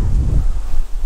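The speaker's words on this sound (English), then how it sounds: "A little windy today" Wind gusts buffet the microphone in a low, steady rumble throughout a walk in Theodore Wirth Regional Park, Minnesota, loud and close with no talking.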